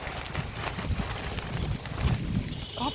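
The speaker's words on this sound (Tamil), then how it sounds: "காத்து" Wind blowing steadily over the water while fishing from a boat, a continuous rough rumble buffeting the microphone with faint knocks mixed in.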